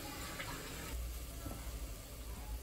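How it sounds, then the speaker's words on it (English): Water splashes and gurgles as it is poured into a cooking pot of mung beans and pork, a short steady pour that is close and fairly loud. "Let's add water."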